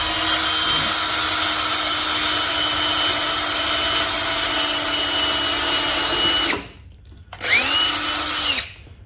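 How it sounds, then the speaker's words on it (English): DeWalt cordless drill running on a factory DeWalt battery: a loud, steady high-pitched motor whine for about six and a half seconds, a brief stop, then a second short run that spins up and winds down. "All right, so now I got the drill and I got the factory Dewalt battery in."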